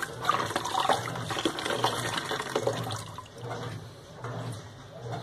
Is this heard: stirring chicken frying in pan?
no